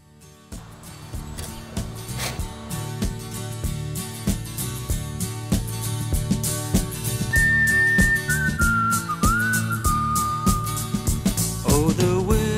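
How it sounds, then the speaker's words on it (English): A person whistles a tune over a band accompaniment at a Rhodesian Armed Forces memorial, the melody rising above steady music. "You can hear him whistling even though he's down."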